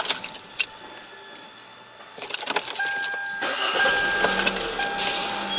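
A Hyundai Elantra GT that has an intermittent no-start fault has keys jangling first, then a brief crank and the engine catching, settling into a steady close idle that rises slightly, with no talking.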